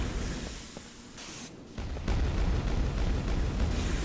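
Sustained machine gun fire in Quake 2 comes as a dense, booming barrage, dips into a brief lull, then resumes louder and steady to the end.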